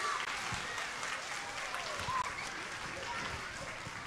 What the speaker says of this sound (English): Can I get a round of applause for my helpers?